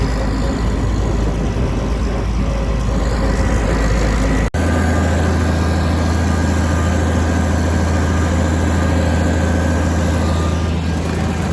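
A low, steady 1456 tractor engine idle rumbles continuously at close range, with a brief dropout partway through before the drone resumes, slightly heavier.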